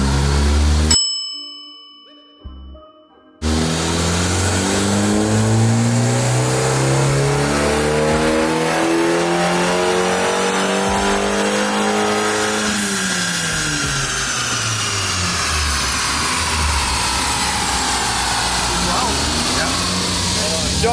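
A turbocharged Dart/Abarth/Fiat MultiAir car on a dyno in fourth gear: after a bell-like ding and brief quiet, the engine roars into a loud sustained pull with rising pitch, then eases off into a drawn-out wind-down.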